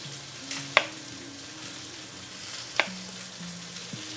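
Salmon topped with thin lemon slices sizzles in a hot pan with a steady, even hiss, two sharp taps, and soft tonal background sounds underneath.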